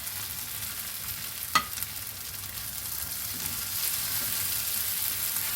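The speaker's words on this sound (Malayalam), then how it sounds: "അതിലേക്ക് നമ്മൾ മുമ്പേ വറുത്ത് വെച്ചിരുന്ന ചിക്കൻ്റെ കഷ്ണങ്ങൾ ചേർത്ത് കൊടുക്കുകയാണ്" Fried chicken pieces stirred into sizzling biryani gravy, a steady soft frying hiss with one brief scrape of the spoon near the start.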